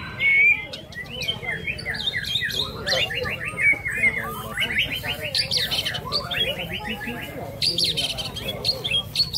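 White-rumped shamas sing at a songbird contest in a housing estate in Palembang, with rapid, varied whistles and trills layered over a busy crowd murmur and occasional voices.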